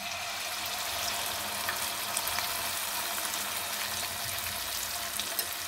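Semolina pua batter sizzles steadily in hot oil for a Bihari-style Holi sweet, a close, continuous crackling fry with no voices.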